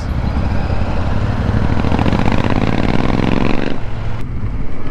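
A Royal Enfield Super Meteor 650 motorcycle rumbles steadily with a deep, throbbing low-pitched pulse, loud and close, before the engine note drops away near the end.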